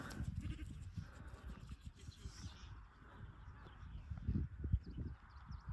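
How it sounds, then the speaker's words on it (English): Sheep bleat in a field in the Lake District amid gusty wind and rustling, the calls rising louder near the end. "I've come for a wander into a field of sheep"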